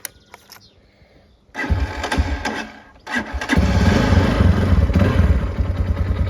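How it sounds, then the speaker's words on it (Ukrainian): A Loncin SX2 250 motorcycle engine cranks and catches, then settles into a steady, loud idle after a brief stumble. "Я завожу мотоцикл."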